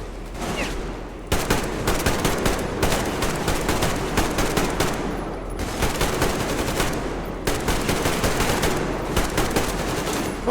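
Sustained automatic gunfire from a firefight against enemies in the Metro Exodus video game: dense, loud rapid bursts of shots with brief pauses between volleys, clattering continuously throughout.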